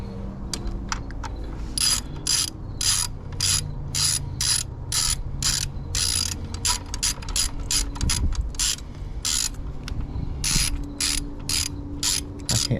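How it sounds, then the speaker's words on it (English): Ratchet clicking on a coil pack bolt of a Jeep Wrangler, a close series of sharp rapid clicks in short bursts with irregular pauses, repeated throughout, no talking. "grab my ratchet, my ratchet"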